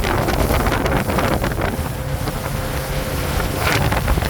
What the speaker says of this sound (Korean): 점점 보트가 속력을 내기 시작하는데요